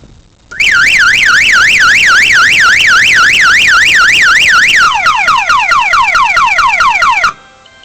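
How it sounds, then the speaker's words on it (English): Loud multi-mode electronic horn on a custom Murray lawn mower, wailing in a rapid up-down siren pattern, then switching to a slower falling yelp before cutting off. "I saw the horn on it, and I thought, yeah, that'd be a good thing to put on there just for fun"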